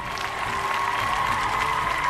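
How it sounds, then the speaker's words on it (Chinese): At a Wu Lin Feng kickboxing event, a live audience applauds with dense, continuous clapping and some crowd noise that holds at an even, fairly loud level throughout. "我建议我们现场所有的观众朋友们用最热情的掌声给他们点赞"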